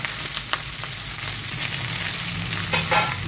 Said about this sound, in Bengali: দেওয়ার পরে সব সবজিকে একসঙ্গে নিয়ে ভালো করে নাড়াচাড়া করে ভেজে নেব।